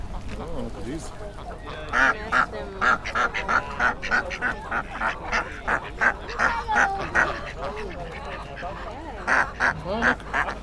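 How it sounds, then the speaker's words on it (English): Indian runner ducks quack loudly and repeatedly at a poultry market in Roscommon, the calls coming in quick rhythmic bursts close by, with faint voices in the background. "These are runner ducks. I think they're Indian runners."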